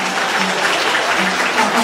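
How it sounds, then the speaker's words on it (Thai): Steady crowd applause fills a university arts and culture festival opening ceremony in Ubon Ratchathani, a dense, continuous clatter of many hands clapping at moderate distance. "ขอเสียงปรบมือเป็นเกียรติแด่ทุกท่านอีกครั้งหนึ่งครับ"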